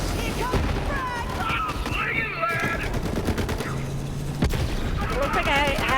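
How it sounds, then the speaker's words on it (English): A frag grenade bursts amid heavy gunfire in Borderlands 3, a dense continuous fusillade with booms, while excited voices shout over the fight. "Here comes the frag!"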